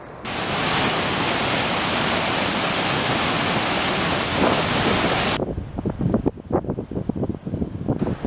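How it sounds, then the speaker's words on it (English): A swollen creek roars across a flooded mountain trail in spring snowmelt, a loud, dense rush that holds steady for several seconds, then breaks into splashing, gurgling bursts close by. "That creek is really roaring."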